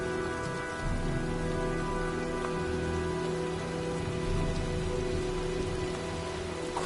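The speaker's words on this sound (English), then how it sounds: "Well, looks like a storm's coming." Steady rain pattering on surfaces in a video game as a storm approaches, a continuous even wash of drops at moderate level with no voices.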